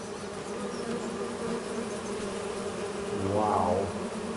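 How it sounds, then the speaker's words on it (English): Bees from farm beehives in Farming Simulator 25 hum steadily, a soft continuous insect buzz with a brief louder swell near the end, calm and fairly quiet. "I hear honeybees, I hear bees."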